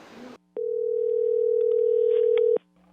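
A telephone call to the Internal Revenue Service produces a single steady tone that holds for about two seconds, coming after a short burst of noise and ending abruptly, with no voices.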